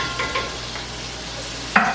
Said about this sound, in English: And I'm just going to stir this around for about 5 minutes.